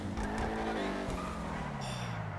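A racing car engine in GTA 5 Online drones and revs, its pitch sliding downward as it decelerates, loud and steady with a brief high whine.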